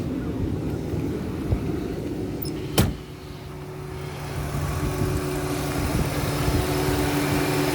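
A 2004 Lincoln Town Car engine idles smoothly with no misfire, a steady low hum up close with one sharp click partway through, running alone without talking.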